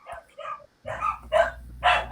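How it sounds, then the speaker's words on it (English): Several dogs barking in short, loud bursts, a few yips and then three strong barks close to the microphone, with a low steady hum underneath. "those are my dogs barking"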